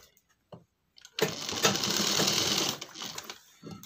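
A sewing machine runs steadily for about a second and a half, stitching the joint of handmade cloth slippers sewn from leftover fabric, with a few faint clicks before and after.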